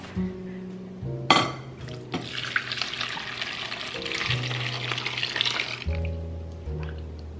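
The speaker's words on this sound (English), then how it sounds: "we're gonna pour everything that's left in the crock pot in here" Leftover liquid from a crock pot is poured through a fine mesh sieve into a bowl for a dipping sauce, giving a few seconds of steady, close splashing and trickling after a brief clatter.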